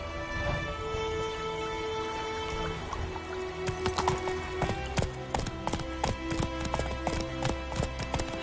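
The horse Roach trots along at a steady clip-clop in The Witcher 3, hoofbeats growing sharper and more regular after a few seconds, with a quiet background bed and no talk.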